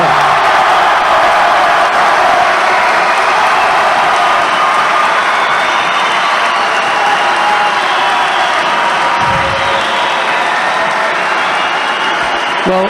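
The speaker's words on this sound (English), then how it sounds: "the crowd didn't like that" A European Judo Championships arena crowd reacts with a loud, sustained roar of voices, whistles and scattered clapping that never lets up.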